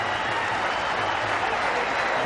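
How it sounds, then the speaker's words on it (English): A cricket crowd at a one-day international in Sharjah applauds a batsman's fifty, producing dense, steady clapping at full volume for the whole stretch. "There you see the Pakistani camp applauding his effort."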